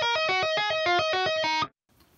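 A clean guitar picks a riff with no delay effect, a quick, bright run of distinct notes that stops abruptly, leaving near silence.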